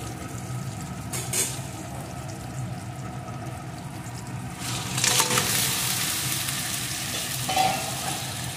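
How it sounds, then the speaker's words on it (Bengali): Pieces of Sundarbans saltwater crab fry in a pan for a mustard crab curry. A constant close sizzle runs throughout, with a few brief louder crackles and stirring bursts. No one speaks. "এগুলোকে ভালো করে ভেজে নিয়ে এর ভিতরে আমি এখন কাঁকড়ার টুকরোগুলোকে দিয়ে দেব।"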